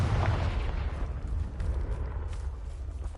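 The Confringo fire spell in the video game Hogwarts Legacy bursts with a low, rumbling explosion that hits hardest at the start and then decays into a lingering, crackling roar, with no speech.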